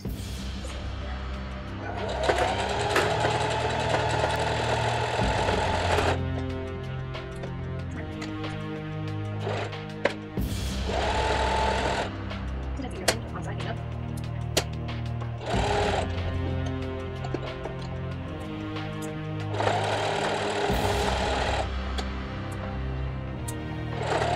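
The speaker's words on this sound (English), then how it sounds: "change it to a straight stitch and back stitch to begin and end" Sewing machine running in long bursts while stitching straight seams on cloth wipes, a steady buzzing whir that stops and restarts several times with short pauses between runs.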